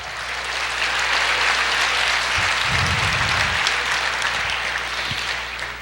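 A church congregation applauds during a sermon, a steady, full wash of clapping held for several seconds over a low hum, with a brief murmur partway through.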